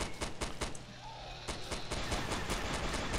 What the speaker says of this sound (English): eat Shay's 100 round minigun